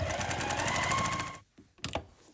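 A sewing machine sewing the seams of a quilt block, a fast rhythmic whir of needle strokes lasting over a second, then stopping, followed by a couple of brief handling knocks.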